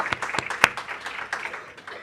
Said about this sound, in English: I think all of us here would deserve a round of applause.